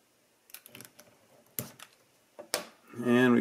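A breadboard jumper wire is stripped with a hand tool, producing several short, sharp clicks and snips close by, followed by a voice starting to speak.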